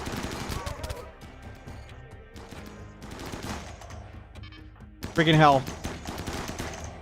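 Turrets rattle off rapid machine-gun bursts in the Water World video game, dense and loud, with a sharp burst near the end and a player talking over the firing.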